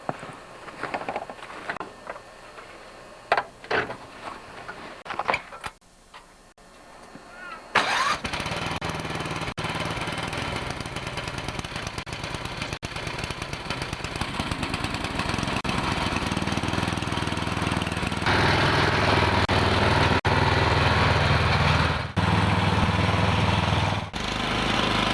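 A snowblower engine is pulled to a start after a few quiet handling knocks outdoors, then settles into a loud, steady running drone that holds close by until the end.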